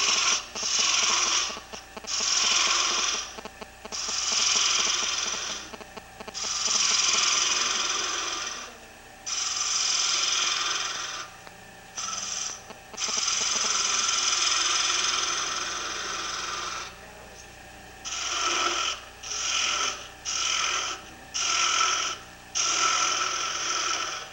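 A wood lathe turns a hollow ornament with a free ring, the gouge cutting in repeated bursts of a few seconds each. Rasping scrapes alternate with short pauses over a steady low motor hum, close and fairly quiet.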